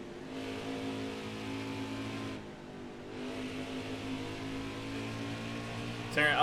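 Race car engines roar in the NASCAR Heat 5 game on a 1998-season mod at Phoenix, a steady high-pitched drone that dips briefly as cars pass, with a person talking over it.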